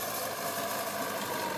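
Steady, continuous tractor engine drone as it works a field with a rotavator, a dense mid-to-high mechanical hum with slight vibration, holding level throughout with no talk.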